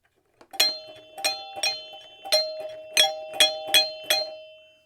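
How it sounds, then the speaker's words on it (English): A rebuilt Williams Lucky Ace pinball chime box rings out eight bright, metallic chime strikes at an uneven pace, each one sharp and clear with a ringing decay, close-up with no voices. "But there's a working chime box now."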